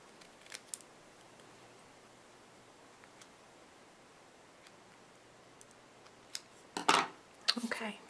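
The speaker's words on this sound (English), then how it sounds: "I'm going to take my paper snips" Paper snips trim through paper in a few short, crisp cuts near the end, following a long stretch of near silence with faint scattered ticks.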